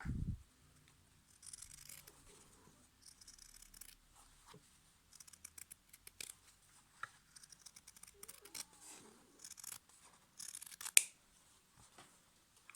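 Scissors snip along the edge of a cotton fabric face mask in a series of small, quick, crisp cuts, spaced irregularly and heard up close in a quiet room.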